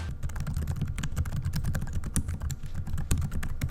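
Rapid typing on the compact keyboard of a CHUWI MiniBook 8-inch mini laptop, a close, continuous run of sharp key clicks and taps with no speech.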